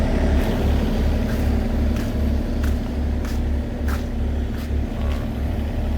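The diesel engine of a 3.5-ton mini excavator idles steadily with a low, even rumble and a soft rhythmic throb, close by and fairly quiet, with no talking.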